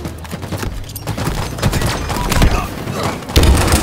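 Rapid gunfire and thudding impacts in a Halo-style multiplayer firefight against enemy Spartans, a dense continuous volley of shots with heavier booms toward the end, loud and close.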